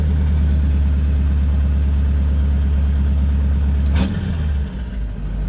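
CAT 3208 turbo diesel engine runs with a steady deep rumble close by, then a brief throttle touch near the end briefly shifts the note before it settles.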